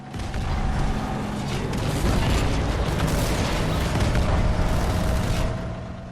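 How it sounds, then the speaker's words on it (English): Tank cannon fire and explosions in the video game Halo 2 Anniversary, a dense, continuous battle roar of booms and mechanical rumble filling the whole stretch, loud and steady with no clear gaps between shots. "The tank cannon fires a lot quicker."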